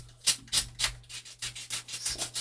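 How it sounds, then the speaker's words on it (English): Edges of handmade photo ID tags being sanded to look aged, a rhythmic series of close, scratchy rubbing strokes, about ten in quick succession, over a faint steady hum. "So give it some sanding and want to make them look older."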